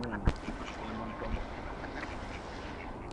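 Domestic ducks quack close by, a few sharp calls near the start and then scattered quacks over a steady outdoor background, with people talking quietly.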